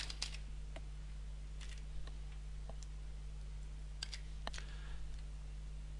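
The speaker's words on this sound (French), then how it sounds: "On appuie sur la touche entrée du clavier." Sparse keyboard clicks from typing on a computer keyboard, including presses of the Enter key, come as scattered light ticks over a steady low electrical hum, with no talking.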